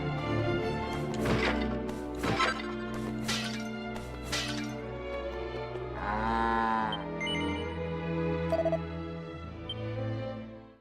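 A cartoonish cow moo rings out in Dragon Quest VII: Reimagined, a drawn-out lowing call layered over steady game music and sound effects, loud and up front.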